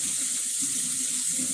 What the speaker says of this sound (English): and I let the water run a minute